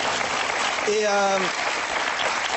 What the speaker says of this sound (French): Vraiment applaudissez-la.